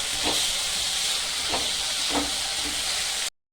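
Tomato sautéing in a pan while making rava uttapa, a steady loud sizzle and hiss with a few soft stirring knocks, ending abruptly.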